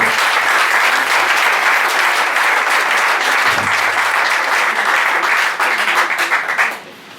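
A church congregation applauds, with loud, sustained, dense clapping from many hands that runs steadily before tapering off sharply at the end.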